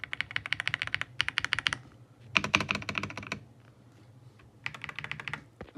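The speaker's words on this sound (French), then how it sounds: "c'est un clavier en QWERTY" Fast bursts of typing on an Epomaker Ajazz AK820 Pro mechanical QWERTY keyboard, close and crisp, with rapid clicky keystrokes grouped into several runs separated by brief pauses.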